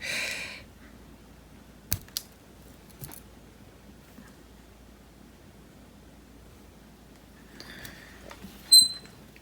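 An embroidery stand in need of lubrication gives a brief, thin squeak near the end, after a quiet stretch broken by a few faint taps and a soft rustle at the start.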